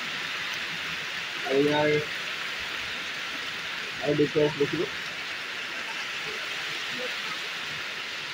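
Steady heavy rain falls outside as a constant broadband hiss in the background, while someone talks in two short bursts over it.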